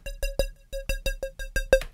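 A plucky Serum synth with a 16th-note LFO on its level, repeating short bright tonal stabs in a steady, even rhythm, each decaying quickly, clear and alone.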